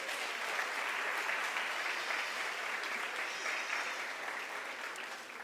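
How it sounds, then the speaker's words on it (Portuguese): A church congregation applauding steadily throughout, a dense, even wash of many hands clapping with no talk over it, fading slightly at the end. "Você pode aplaudir a Ele nessa noite?"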